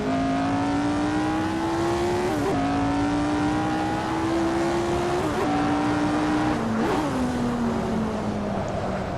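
Lotus 49 race car engine in Assetto Corsa, a loud, continuous high-pitched wail held steady at high revs, broken by three brief dips and rises as gears shift.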